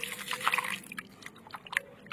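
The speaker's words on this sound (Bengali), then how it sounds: "ভালো করে এবার আলুগুলোকে ধুয়ে নিতে হবে 4-5 বার" Cut potatoes being washed in a bowl of water, soft splashing and dripping with small sloshes, quiet and close, no talk.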